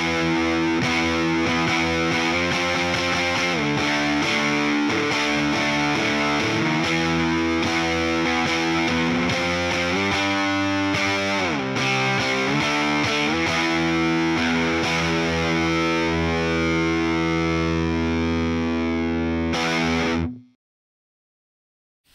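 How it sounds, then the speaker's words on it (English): An electric guitar played through a hard-clipping distortion effect modeled on the 1970s MXR Distortion Plus rings out in loud, saturated sustained chords and riffs for about twenty seconds before cutting abruptly to silence. "Hard clip distortion. Distortion effect inspired by the 70s era MXR Distortion Plus"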